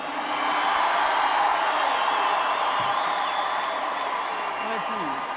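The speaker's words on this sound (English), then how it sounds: "Everybody who believes in the First Amendment, cheer." Crowd cheering at a 1996 political rally in Columbus, Ohio: a loud, sustained roar of many voices with whoops and applause, steady for several seconds in a large space.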